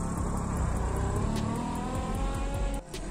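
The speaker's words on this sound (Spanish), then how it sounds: "simplemente llegamos, arrancamos, y es solo jugar con el acelerador, miren." A car engine revs repeatedly while the car reverses uphill, heard from inside the car. The revs rise and fall in a wavering pattern under a faint periodic ticking, then dip briefly near the end.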